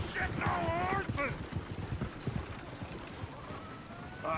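Horse hooves clip-clop steadily in Red Dead Redemption 2, with a brief whinny early on, heard close and under ongoing talk from several voices.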